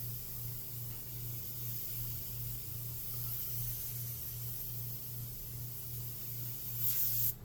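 A Takumi or Evolution airbrush spraying paint, giving a faint, steady hiss with a soft low hum running beneath it for the whole stretch, ending in a brief brighter burst of spray.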